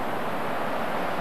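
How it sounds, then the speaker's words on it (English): A creek flowing beside a campsite in the mountains near Banff and Jasper, a steady broadband rush of water, continuous and fairly soft over the whole brief moment. "That's all we'll hear is the creek."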